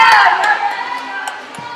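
Teammates at a school swim meet cheer and shout for a swimmer, a brief burst of high-pitched voices echoing in an indoor pool hall that fades quickly.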